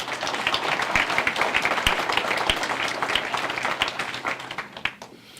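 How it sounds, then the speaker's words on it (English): A room of attendees at a county Republican convention in Henderson County, North Carolina claps together in a sustained round, loud and steady, with a few sharper individual claps near the microphone before it thins out toward the end. "So let's give them a round of applause."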